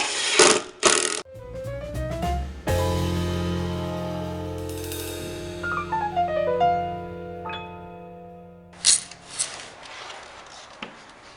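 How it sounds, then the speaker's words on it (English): Wood screws are driven into a wooden miter sled, with a rising and falling whine of the driver, ratcheting grinds and a few sharp bursts at the start and end, close and clear without talk. "we'll go ahead and put a couple wood screws in it."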